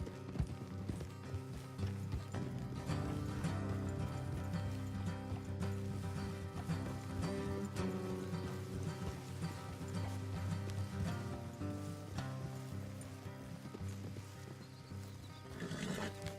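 Horses in the video game Red Dead Redemption 2 clip-clop along at a steady trot with occasional whinnies, over a continuous music bed.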